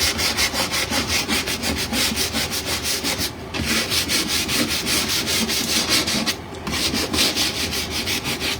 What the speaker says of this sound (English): I'm using a heavier sandpaper right now.